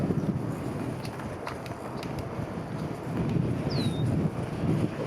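Strong wind on a ride through Gulf State Park, a steady low roar and rumble buffeting the microphone throughout, with faint ticks and a brief high squeak partway through.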